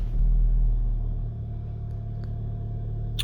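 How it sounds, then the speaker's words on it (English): A 2016 Volkswagen Golf R MK7 with DSG gearbox starts up, its engine catching with a deep low rumble that swells briefly and then settles into a steady idle, close by with no talking. "I'll just start the car."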